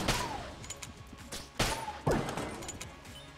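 Gunfire in Enter the Gungeon aimed at a pile of books, a few sharp impacts and cracks among a continuous spray of shots, fairly loud with chaotic game noise.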